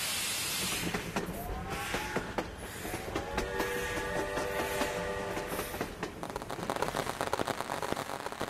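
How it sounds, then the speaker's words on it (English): Train sounds from a train-building video game as a train pulls into a station: steady rolling rumble and clatter with tonal whistle-like horn lines sustained in the middle, fairly close and continuous, no talk. "The train has arrived."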